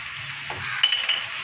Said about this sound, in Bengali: পাস্তাগুলো দিয়ে একটু নাড়াচাড়া করবো তাহলে একটু নাড়াচাড়া করি পাস্তাগুলো সবজির সাথে